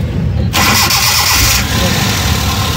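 A used Suzuki pickup truck engine cranks and catches, then settles into a loud, steady idle close by, with rough broadband noise throughout.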